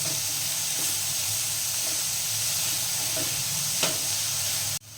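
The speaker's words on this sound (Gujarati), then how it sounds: "હવે આ બધું આપણે મિક્સ કરીને એક સરખું કરી લઈશું." Ginger paste and spices stirred together in a hot pan, a steady sizzle and hiss with scraping stirs throughout, close and continuous before cutting off abruptly at the end.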